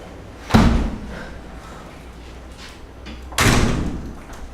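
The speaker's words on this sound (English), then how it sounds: "I close the door just a second." A room door is closed twice: a loud close thud followed by a lingering rumble, then a second, heavier bang a few seconds later, both near and distinct over a quiet room.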